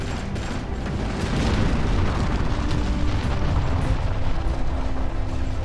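An enemy Pterodyne blows up in the Ground Control HD strategy game, a continuous, loud, rumbling blast with crackling debris that lasts several seconds without a break.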